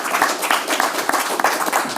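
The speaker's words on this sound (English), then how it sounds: "let's give a round of applause to everybody" Audience applause after a panel discussion at a green cities conference, a short burst of dense clapping from a room of people with some sharper individual claps.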